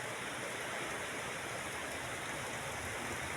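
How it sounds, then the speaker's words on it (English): Steady rain pours down outdoors, a dense, continuous hiss with drumming on surfaces and no breaks, fairly close and even throughout. "Because the way this rain fall,"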